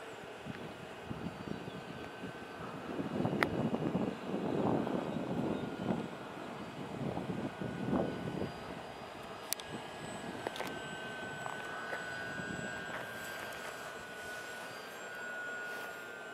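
A model airplane, weighted with extra ballast for an endurance test, drones overhead on a windy day, its engine a faint steady hum with a louder swell early on, heard at a distance over wind noise.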